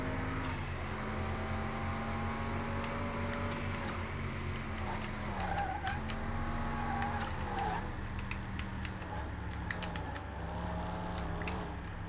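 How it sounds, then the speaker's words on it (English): A turbocharged race car engine in a car mechanic video game revs and shifts steadily, its harmonic tone sweeping up and down with clicks and a faint turbo whistle throughout, fairly quiet. "Listen to that turbo. She is a happy turbo."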